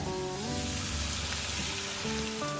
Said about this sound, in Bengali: এবার পোস্তটাও তেলের সাথে ভালোভাবে একটু ভেজে নেব